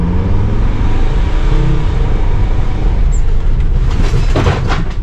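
A 2006 Sprinter 3500 van, driven during a brake test with a grinding noise present, gives a loud steady road and engine rumble, and brakes or tires rasp and scrape near the end.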